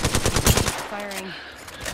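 Apex Legends gunfire in a video game, heard as a fast loud burst of automatic shots followed by a brief electronic tone, close and continuous.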